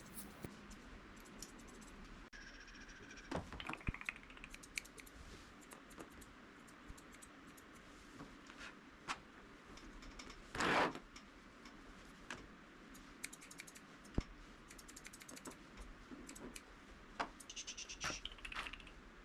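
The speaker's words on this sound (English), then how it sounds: "I'm using my thinning shears to blend in underneath her tail so it looks more natural" Thinning shears trimming dog hair under the tail of a hairy Corgi mix, heard as sparse, quiet, close snips and ticks at irregular intervals, with one brief louder rustle midway.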